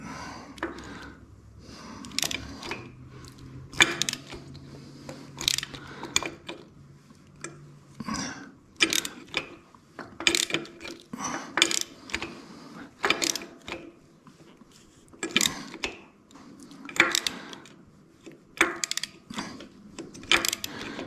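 A ratchet snugging the top motor mount bolts on a 2001 Harley Sportster, giving quick repeated clicking strokes in uneven bursts over about twenty seconds, close and fairly clear, with a low background hum early on.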